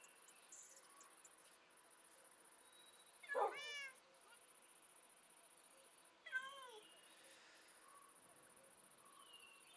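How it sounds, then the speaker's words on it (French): A cat meows twice, a few seconds apart, clear and fairly close, over faint steady insect chirping in a quiet setting. "Ah, c'est le chat."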